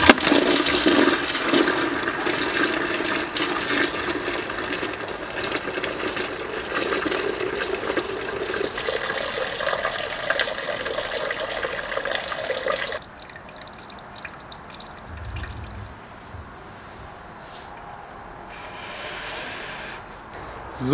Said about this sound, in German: nach links hier abgehend jetzt der Schlauch, wo ich das Kühlmittel rauslassen werde. Einfach in einen Eimer unten drunter.